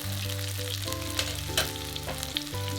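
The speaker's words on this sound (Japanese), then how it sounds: "もちろんバターをノワゼット焦がしバター状にしながら焼いていきます。" Sole fillet frying in butter browned to noisette while hot fat is spooned over it in the pan, giving a steady, dense sizzle with faint stirring and basting clinks and no talking.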